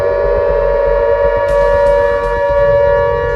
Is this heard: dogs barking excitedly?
no